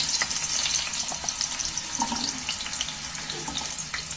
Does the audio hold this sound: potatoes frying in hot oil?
yes